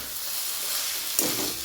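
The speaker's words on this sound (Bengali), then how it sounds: "মোচাটা নাড়তে নাড়তে দেখুন জলটা শুকিয়ে এসছে" Vegetarian Bengali banana flower curry sizzles in a pan while being stirred as its water cooks off, giving a steady close hiss with a brief scraping stir near the end.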